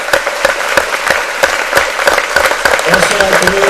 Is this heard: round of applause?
yes